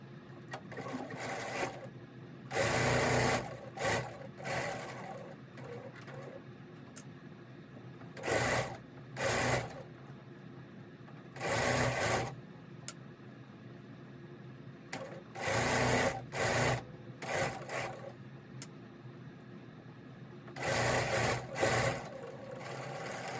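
A sewing machine stitches quilt block pieces in several short bursts of fast, close whirring separated by pauses with quieter handling noise between runs.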